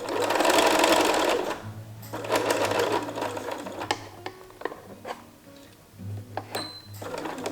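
A sewing machine stitches a dress seam up to a pin, running in close, loud bursts that slow into short stuttering stitches and mechanical clicks before stopping.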